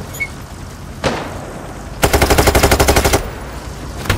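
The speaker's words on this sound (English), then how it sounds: "There's a sniper shooting at you." Gunfire in a cops-and-robbers heist video game, with a single shot near one second followed by a loud, rapid burst of evenly spaced automatic rounds lasting about a second, then quieter background.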